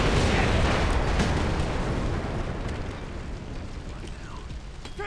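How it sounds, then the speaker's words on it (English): A grenade blast in Splinter Cell Conviction: a loud, broadband explosion at the start that rumbles and slowly decays over about five seconds, with faint debris and game noise trailing off. "Watch out! Grenade!"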